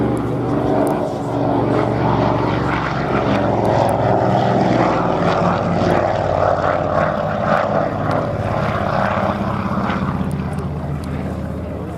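Avro Anson twin-engine propeller aircraft flying at Scampton, a steady loud engine drone and airscrew hum that holds throughout with slight swells, close and continuous.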